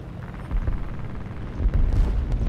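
Bombs dropped by a B-17 bomber exploding in a flight combat game, a dense rumbling series of low booms rolling and swelling, with a heavier blast near the end.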